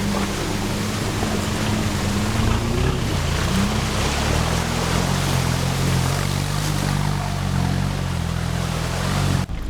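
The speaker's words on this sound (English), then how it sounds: "Car crossing water." A vehicle fords a river on a rainforest expedition, its engine droning low and steady with a rising and shifting pitch as water rushes and churns loudly around it throughout, no voices heard.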